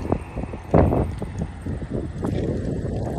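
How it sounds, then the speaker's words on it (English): Gusty wind buffets the microphone with low rumbling bursts, accompanied by faint rustling and scattered background sounds. "it's windy."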